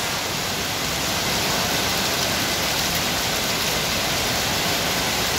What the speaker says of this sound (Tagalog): Eh ulan eh.